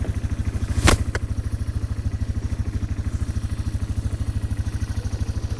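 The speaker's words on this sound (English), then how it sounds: "when you travel around the four-wheeler and the engine running" A four-wheeler ATV engine running near a horse: a steady, rapid, loud thumping idle that pulses evenly throughout, with a sharp clack near the start.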